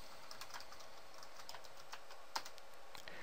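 A computer keyboard is tapped to enter a Maven command, with light, close keystrokes in an irregular run over a quiet room hiss, plus one slightly sharper click.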